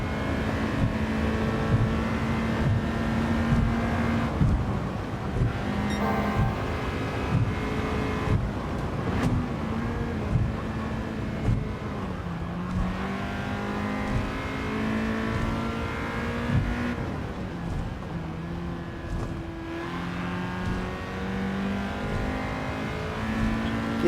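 Race car in Gran Turismo 7 on a circuit in Japan, engine droning steadily close up with repeated rises and dips in pitch through gear shifts and corners, sustained and loud throughout with no voices.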